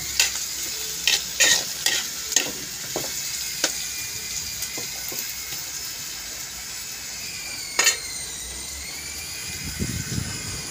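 Food frying in a pan with a steady sizzle, cooked in an old-style bamboo setup, while a utensil stirs and scrapes with intermittent clinks and knocks.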